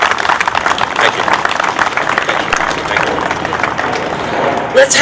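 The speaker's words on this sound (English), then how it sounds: "Let's have another hand of applause for Brendan." Clapping from the crowd at an outdoor Veterans Day ceremony fills about five seconds, uneven and moderately loud, with some voices and crowd noise mixed in and a short bump near the end.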